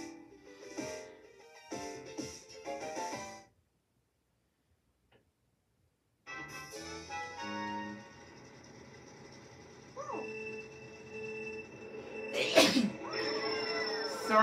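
A single sharp sneeze bursts out near the start, followed by short vocal sounds, then a pause and a steady ticking, humming background.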